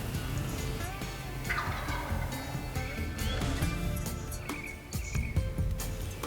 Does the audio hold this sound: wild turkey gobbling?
yes